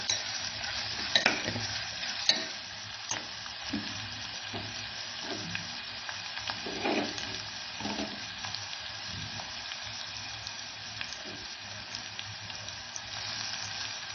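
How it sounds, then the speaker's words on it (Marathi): Vegetables and chicken kheema sauté in hot oil for a pulao, giving a steady sizzle broken by repeated scraping stirs, close and fairly quiet with no talking. "आपल्याला या भाज्या परतून घ्यायच्या असतात, शिवाय खिमा देखील छान परतून घ्यायचा भात करण्यापूर्वी"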